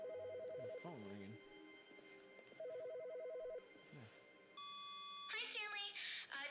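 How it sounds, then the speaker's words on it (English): A telephone rings inside The Stanley Parable video game: repeated electronic trilling bursts in a steady pattern, followed by a sustained tone and a brighter warbling signal at the end, clear and fairly loud. "The phone ringing."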